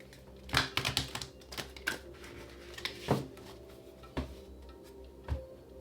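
A deck of tarot cards is shuffled by hand, giving a run of soft, close, papery clicks and slaps in uneven bursts, with a few sharper single taps spaced apart near the end.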